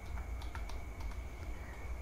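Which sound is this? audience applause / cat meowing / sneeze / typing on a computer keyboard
typing on a computer keyboard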